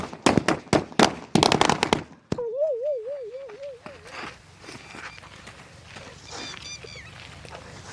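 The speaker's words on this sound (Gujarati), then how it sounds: "ફટાકડા ફોડો ભોળે દિવાળી આવે છે" A rapid volley of loud, sharp firecracker bangs, followed by a wavering whistling tone and scattered faint noises in the background.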